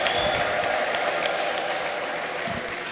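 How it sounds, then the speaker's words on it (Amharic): A church congregation in Addis Ababa applauds loudly and continuously, a dense, sustained clapping crowd filling the room, with a high ululating trill faintly audible above it. "ለጌታ እልልታና ጭብጨባ አምጡ እስቲ ከዚህ በላይ"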